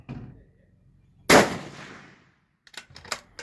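A 6mm BR rifle fires once from a bag rest, a single sharp, loud crack that rings out briefly, followed by faint clicks and handling noises.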